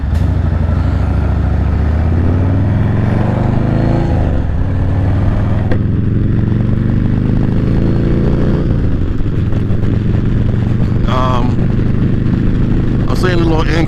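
A Yamaha Raider motorcycle engine accelerates through rising revs and gear shifts, a loud close rumbling drone climbing in pitch in repeated sweeps, with a rider talking over it.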